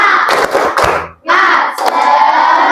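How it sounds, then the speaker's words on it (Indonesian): Schoolchildren in a fifth-grade classroom perform a rhythmic spirit-clap chant, shouting together in unison between bursts of sharp group claps, loud and close, with a brief pause midway. "coba kita tepuk semangat dulu"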